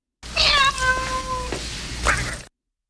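A man imitates a cat's meow with a few drawn-out, wavering mews, then gives one shorter meow after a brief pause.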